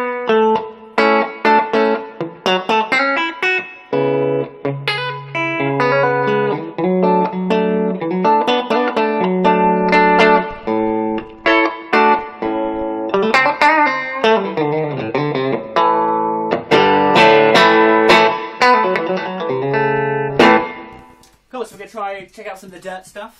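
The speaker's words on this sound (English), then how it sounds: "And then some bridge pickup, some country star stuff." An electric guitar on its bridge pickup plays clean country-style licks through an Orange Crush amp, with bright twangy single notes and bends in quick phrases, loud and close with no talking over it.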